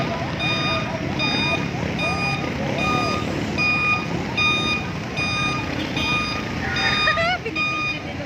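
A truck's reversing alarm on a flooded C5 road in Taguig beeps in a steady repeating rhythm, loud and close over a constant wash of rain, water and traffic noise, with a voice talking.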